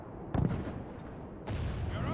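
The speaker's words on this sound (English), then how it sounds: "he was just fine sitting over there with his cannon shooting my armored sergeants" Cannon fire in an online medieval strategy battle, with one sharp low boom early on and a second heavy blast rumbling out near the end, over steady battle noise.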